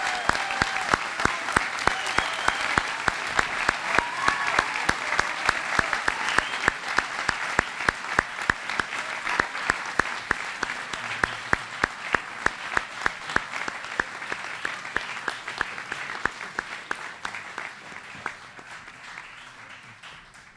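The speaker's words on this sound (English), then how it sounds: "Will all members of the 8th grade class please stand and receive our applause?" A graduation audience applauds the standing 8th grade class with steady, moderately loud clapping, a few sharp individual claps standing out rhythmically above the crowd and slowly tapering near the end.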